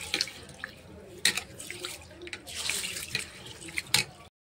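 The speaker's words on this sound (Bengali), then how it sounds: "500 বিরিয়ানির চাল জল দিয়ে করে ধুয়ে নেব।" Biryani rice is washed in water, with splashing and running-water bursts that come in uneven surges and stop abruptly near the end.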